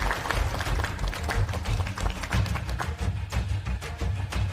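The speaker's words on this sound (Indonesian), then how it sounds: "Mari berikan tepuk tangan untuk Putri Pratama." Dense applause for an actress on stage, many hands clapping at once in a steady, fairly loud patter that holds without pause throughout.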